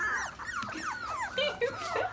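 Goldendoodle puppies whimper and yip in high, squeaky rising and falling cries while playing, close by over a low background hum.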